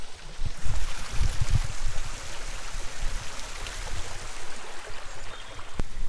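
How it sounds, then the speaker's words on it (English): A high mountain river flowing steadily, a continuous broadband rush of water with some low rumbling, moderately loud and alone without talk. "This is probably a really high up river."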